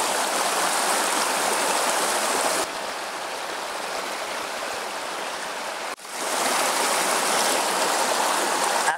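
White water in a mountain stream in Okinawa rushes steadily over rocks, a dense continuous roar heard close and alone, with a brief dip midway.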